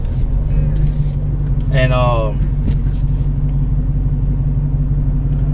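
A car drives through heavy traffic, its steady low road rumble and engine drone filling the cabin throughout, while someone speaks briefly over it.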